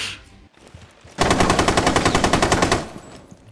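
Automatic gunfire in the video game Rainbow Six Siege, a single loud sustained burst of rapid evenly spaced shots lasting under two seconds, close, following a short stretch of quieter game noise.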